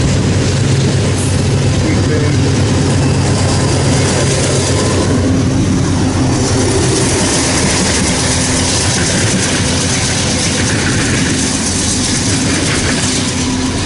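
A freight train rumbles past on the Canadian Pacific–BNSF line near Ashland, Nebraska, heading south, loud and close with a continuous heavy roar, engine drone and clattering wheels throughout.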